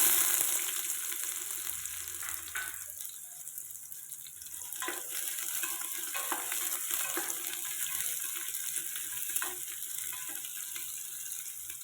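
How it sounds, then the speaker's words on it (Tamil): Onions frying in hot oil inside a pressure cooker on a stove, a steady close sizzle with faint stirring scrapes and no voices. "எண்ணெய் காஞ்சதும் வெங்காயம் சேர்த்துக்கலாம்"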